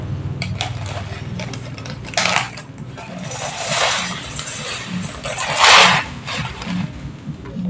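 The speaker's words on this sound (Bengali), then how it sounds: "আমি এই শুকনো কড়াইয়ের মধ্যেই সিমুইটা ভেজে নেব" Vermicelli dry-roasting in an oil-free wok, with dry rattling and scraping as the strands are stirred against the metal. Some bursts are louder than others, and faint background noise runs underneath.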